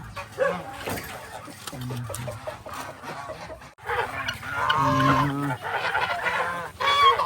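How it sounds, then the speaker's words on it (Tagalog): Several geese honk and cackle in a noisy cluster close by, with a brief lull midway before the loud honking resumes. "Mga gansa."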